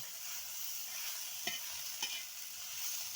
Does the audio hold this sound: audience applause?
no